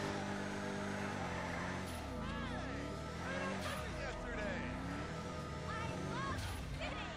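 An Enus Windsor car engine in GTA 5 Online hums and revs steadily under someone speaking Portuguese, with the engine tone rising and falling through the stretch.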